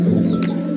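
Pigeons in a pigeon house give a low, soft coo close by, with a steady hum beneath and a brief chirp partway through.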